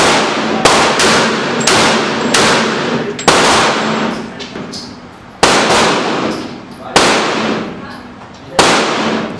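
Sharp gunshots crack in rapid bursts from a firearm fitted with a recoil reducer adapter at close range, each shot a loud sudden blast followed by ringing decay, several evenly spaced shots in a row.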